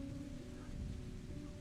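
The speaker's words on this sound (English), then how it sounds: "Another low rumble of thunder passes overhead" Steady rain falls with a low continuous rumble of thunder underneath, dense and even throughout the short stretch, no voices.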